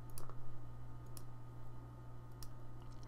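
Computer mouse clicks during video deletion, a few sparse sharp clicks close up over a steady low hum, no voice.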